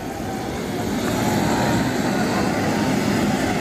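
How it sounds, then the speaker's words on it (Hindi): A helicopter lands in an open area in Gangapur City, its rotor and engine making a steady, loud, broadband roar that fills the whole stretch with no break. "चंद्रशेखर आजाद की एंट्री हेलीकॉप्टर से गंगापुर सिटी में हो चुकी है"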